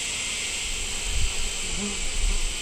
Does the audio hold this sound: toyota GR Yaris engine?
no